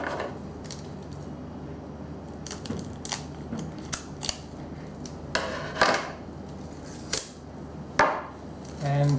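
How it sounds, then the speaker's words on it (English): Kapton tape being peeled from its backing while a RepRap Prusa Mendel i2 heat bed is assembled, with soft crinkly rustles and a few louder tearing bursts near the end, close and quiet with no talk. "all you have to do is peel off your Kapton tape"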